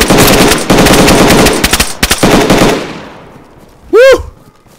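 Gunfire aimed at a bear in the DayZ video game: loud, rapid automatic bursts ring out in two quick volleys that fade into an echoing tail, followed by a short rising, yelping cry.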